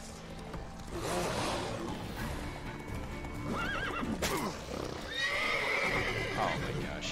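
A horse in The Witcher 3 video game whinnies and neighs loudly while its hooves clip-clop steadily underneath, mixed with other in-game sounds and a brief high tonal effect.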